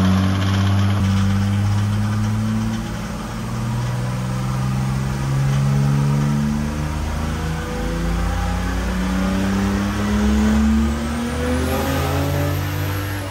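A diesel engine with a big twin-scroll turbo, tested turbo only without a quick spool valve, revs steadily and loudly, its pitch climbing and falling in smooth waves as the turbo spools, with a rising whistle near the end and no voices.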